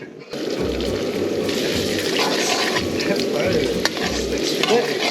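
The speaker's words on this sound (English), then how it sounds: "It's the first time I'm cooking haggis fried rice." Haggis fried rice crackles loudly in a wok, with a dense, steady sizzle and stirring that swells as the food hits the hot pan, while voices murmur faintly underneath.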